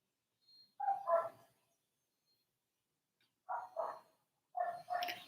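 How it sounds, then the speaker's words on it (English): A dog barks outside, giving three separate bursts of paired barks with quiet gaps between them, moderately distant and fairly faint. "I hear a dog barking and a little kid playing"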